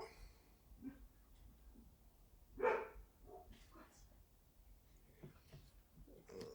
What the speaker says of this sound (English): Dog's going off.